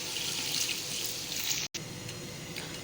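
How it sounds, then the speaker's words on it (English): Two cups of water poured into a pot of chicken curry with potatoes, a steady close rushing pour with a brief break partway through before it resumes. "Now we will add 2 cups of water."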